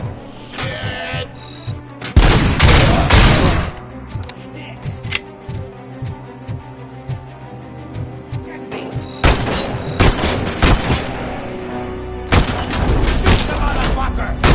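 Bursts of gunfire in RoboCop: Rogue City, loud rapid volleys arriving in several clusters with quieter single shots between, mixed with shouting voices and game sounds.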